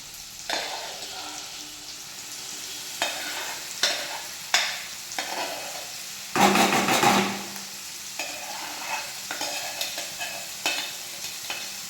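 Ground paste made without water sizzles and spatters in hot oil for a gongura raw prawn curry, with intermittent stirring scrapes and a louder burst of frying midway.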